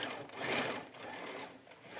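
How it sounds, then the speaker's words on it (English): A sewing machine stitches a dart on a jacket, running in one continuous whirring burst that swells louder midway through and then eases slightly, with no talking. "So we're just sewing a dart."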